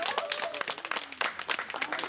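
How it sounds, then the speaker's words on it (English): A small group at a company meeting in Concord, North Carolina claps hands briefly, with quick uneven claps mixed with voices and cheering. "clap your hands for our first time"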